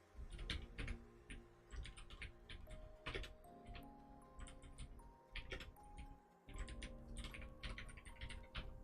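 Computer keyboard typing comes in quick bursts of clicky keystrokes with short pauses between runs, close and clear, with no voices.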